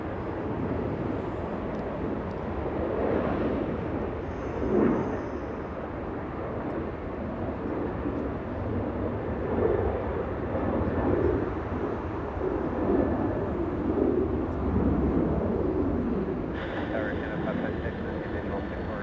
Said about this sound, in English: It's an A330 flying in from Brisbane, Australia